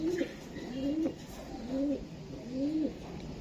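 A young female racer pigeon coos in a slow, regular series of about four low, rolling calls close by, with a faint voice murmuring in the background.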